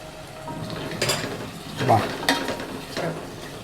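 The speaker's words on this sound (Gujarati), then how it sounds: "હમ જો એકદમ આ સળસળવા માંડ્યું છે" Soft, steady sizzling of a mung dal and sponge gourd curry frying in oil, with a few scraping stirs and light clinks of a utensil against the pan.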